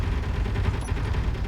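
Automatic turrets in the Space Engineers game fire their ammo in a dense, continuous stream of rapid gunfire, loud and sustained without a break.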